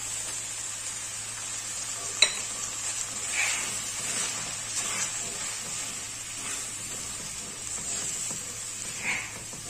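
Besan (gram flour) being roasted with half-cooked fenugreek leaves in a pan, a soft continuous sizzle and hiss with occasional stirring scrapes and one sharp clink, close and fairly quiet.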